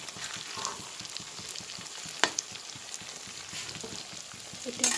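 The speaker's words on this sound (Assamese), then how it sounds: "এইফালে মই চিকেন ফ্ৰাই কৰি আছোঁ" Chicken fries in a pan with a steady, soft crackling sizzle, broken by a few sharp clinks of stirring.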